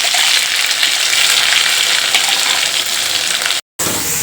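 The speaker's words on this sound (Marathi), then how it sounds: "आपलं वाटण छान असं परतलं आहे." Ground masala paste for patodi rassa bhaji frying in a pan, with a steady, loud sizzle throughout and one very brief break near the end.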